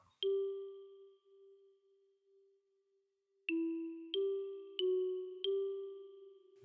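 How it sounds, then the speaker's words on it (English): A synthesized bell tone rings out and sustains, then four more bright bell strikes follow in a quick, evenly spaced melodic run. "very interesting bell"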